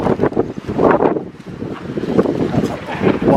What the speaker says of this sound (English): one hell of a wind